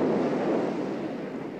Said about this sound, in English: The sound of the crashing waves, no other music.